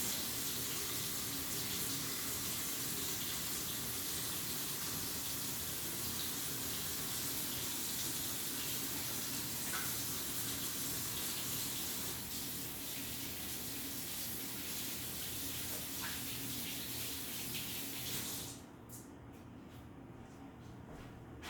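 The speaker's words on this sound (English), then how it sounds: "I'm going to wash my hands." Tap water runs steadily from a faucet for hand washing, a continuous hiss that holds nearly unchanged and then drops abruptly near the end as the flow is cut back.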